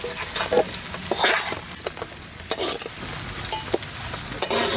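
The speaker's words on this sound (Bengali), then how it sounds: "ক্যাপসিকামটা সুন্দর হালকা করে ভেজে নিছি" Capsicum with onion petals frying in a pan, a steady close sizzle with scraping stir strokes recurring throughout, no talking.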